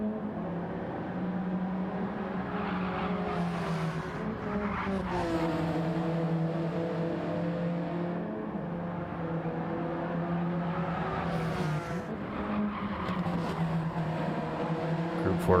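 Group 4 race cars running nose to tail in the Gran Turismo video game, a steady layered engine drone with rising and falling pitch sweeps as cars accelerate and shift, continuous and fairly distant throughout.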